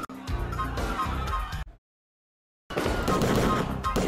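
Rapid gunfire from a LaserDisc shooting video game about Delta Force troops and hostages, loud dense bursts that cut out abruptly into a second of silence, then resume at full intensity.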